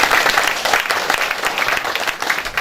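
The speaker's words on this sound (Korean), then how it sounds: "우리 하객 여러분들께서 큰 박수로 격려 박수 부탁드립니다" Guests at a building completion ceremony give loud, dense applause of encouragement, a continuous wash of clapping from a crowd throughout.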